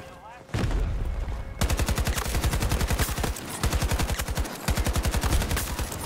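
Rapid bursts of AK-24 automatic rifle fire in the shooter game Battlefield, loud close-up volleys of fast, evenly spaced shots broken by brief pauses between strings.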